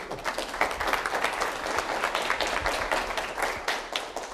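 An audience at a fireside chat with an incoming university president claps continuously in a dense, even round of applause. The applause is moderately loud and close, with no speech over it.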